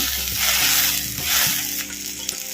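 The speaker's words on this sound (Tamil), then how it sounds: "போட்ட தக்காளி பழத்தையும் பச்சை மிளகாயையும் அப்படியே சுருள அப்படியே கிண்டுன்னு கிண்டி விட்டு" Tomatoes and green chillies sizzle loudly in a hot pan while a utensil stirs and scrapes through them in repeated strokes.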